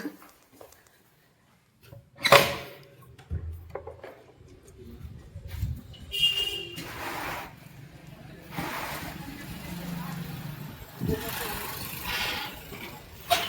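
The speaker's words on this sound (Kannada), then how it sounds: "ಒಂದು ದೊಡ್ಡ ಗಾಡಿ ಬಂದದ" A big vehicle arrives and idles at a home, a low rumbling engine heard near and moderately loud, swelling and settling under bursts of talk and other household noise.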